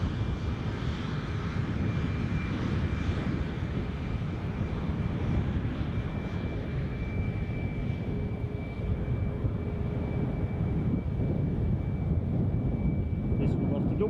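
Ryanair jet airliner departing Edinburgh Airport for Dublin, a sustained engine roar with a thin steady whine, heard at moderate distance with some wind buffeting on the microphone.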